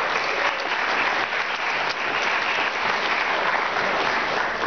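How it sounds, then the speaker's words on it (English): A large audience gives loud, sustained applause at a health and diabetes talk, a thick continuous clapping wash at steady volume for several seconds with no voices over it. "So I want you to give them a round of applause."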